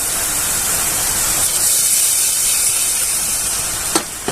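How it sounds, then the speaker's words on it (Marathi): Water splashed into hot tempering oil with curry leaves sets off a loud, sustained sizzling hiss and steam, steady and close, ending with a couple of sharp clinks. "आणि आता पाण्याची फोडणी द्यायची इथे पाणी घेतलेलं आहे ते पाणी घालून घ्यायचं"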